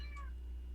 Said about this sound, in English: I'm so sorry for that sound. Loud cat.